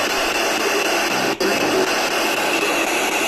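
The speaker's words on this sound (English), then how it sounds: "So you can hear the white noise sweeping" Steady hiss of radio static fills the clip, moderately loud, with one brief dropout partway through.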